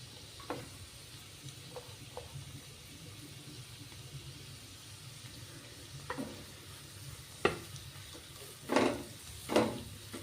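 Chopped onion goes into a hot frying pan, giving a faint steady sizzle with occasional clinks and scrapes of stirring, quiet and close, with no voices.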